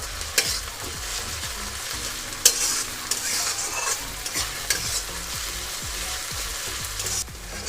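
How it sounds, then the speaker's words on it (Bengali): Crushed ginger and garlic stir-frying in hot oil for an egg tarka, a continuous bright sizzle with repeated scraping stirs of a spatula, close and steady with no one talking. "এখানে যে আমি আদা আর রসুনটা ছেঁচে নিলাম সেটা দিয়ে দেবো আদা আর রসুনের কাঁচা গন্ধ চলে যাওয়া পর্যন্ত এটাকে আমি নাড়াচাড়া করে নেব"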